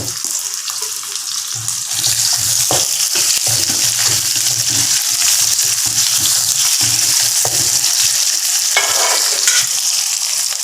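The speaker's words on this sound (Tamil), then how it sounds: "காஞ்ச மிளகாய் போடுறேன். வெங்காயம் போட்டுக்கிறேன்." Dried chillies and onion fry in a pan with a loud, continuous sizzle for about ten seconds, with occasional stirring scrapes and clatter, no voices.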